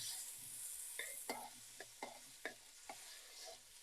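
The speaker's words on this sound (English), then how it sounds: "So we're going to stir this around." Thai-style curry stirred in a pan on the heat, a soft simmering sizzle underneath with a series of spoon scrapes and knocks against the pan, roughly one every half second, fairly quiet and close.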